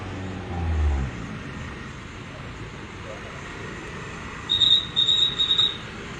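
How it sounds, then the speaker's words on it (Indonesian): Traffic on an alternative road near Palopo after a bridge collapse, a low rumble of a vehicle passing close at first, then steady outdoor noise and a brief high whine near the end. "ini masih kendaraan yang melintas dari arah utara ke Kota Palopo"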